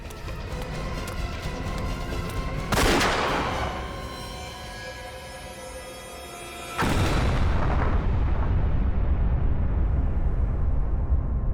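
In a CID crime TV drama, an explosion blows up a fleeing suspect: two loud, sudden blasts a few seconds apart, the second followed by a sustained roaring rumble.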